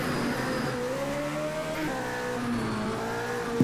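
An E1 2000 class race car pulling away at the Trento Bondone hill climb, its engine revving up through rising gear pulls, fairly close and loud, with no talk over it.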